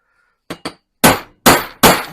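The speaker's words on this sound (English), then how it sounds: "You're just knocking a tiny, tiny little dent" A hammer taps a metal center punch to knock a tiny dent for a drill bit while mounting custom seats in a VW Beetle Baja Bug: two light taps followed by three sharp, ringing strikes, close and isolated.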